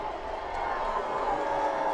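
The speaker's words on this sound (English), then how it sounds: "This crowd making some noise on third down." A stadium crowd at an NCAA Division III semifinal football game, UMHB versus Whitewater, roars on a third down, a steady, far-off wash of cheering that holds at one level throughout.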